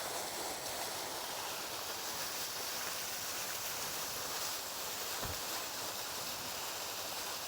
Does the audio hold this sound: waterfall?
yes